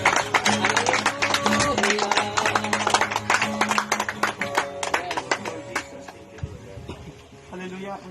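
A church congregation claps steadily in rhythm through a worship song at a baptism service, dense, close hand claps layered over music and singing voices, thinning out toward the end.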